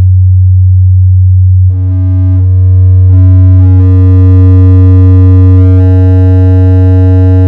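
A loud, sustained synthesizer tone in Ableton Live with a deep bass drone and bright, ringing resonant overtones that build and shift as the filter resonance is raised.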